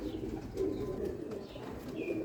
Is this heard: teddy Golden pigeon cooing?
yes